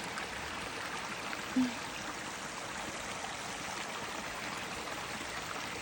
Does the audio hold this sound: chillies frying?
no